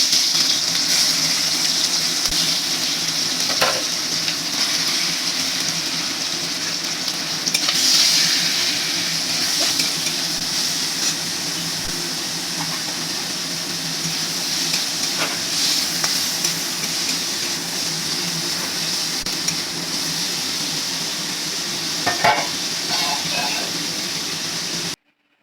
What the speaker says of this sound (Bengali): কড়াইতে তেল দিয়ে চিংড়ি মাছটা ভেজে নেব।